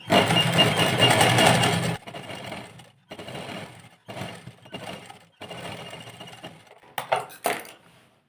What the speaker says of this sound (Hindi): अभी यहाँ पे सिलाई लगाएंगे।